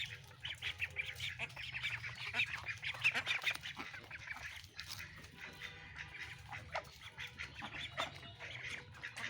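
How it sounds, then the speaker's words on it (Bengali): A flock of farm ducks quacks in a busy, overlapping chorus as they waddle behind a person, a rapid string of nasal calls close by with no talking. "এখন এই হাঁসগুলো আমার পিছনে পিছনে আসবে"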